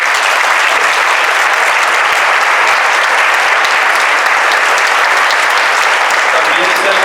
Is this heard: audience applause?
yes